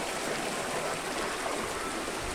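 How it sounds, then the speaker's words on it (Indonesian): A small river at Kayangan Dlepih flows steadily, a constant close rushing and bubbling of water with no breaks or voices. "Nah, ini air mengalir meskipun kecil namun teratur."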